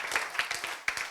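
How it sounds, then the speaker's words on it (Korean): A lecture audience claps in a short, uneven patter of hands, moderately quiet, with a few distinct sharp claps standing out of the rhythm. "박수 한번 칩시다"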